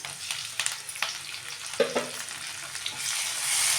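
Onion and tomato fry in a pan, a steady close sizzle broken by scraping stirring strokes and light utensil knocks, with the hiss swelling louder near the end.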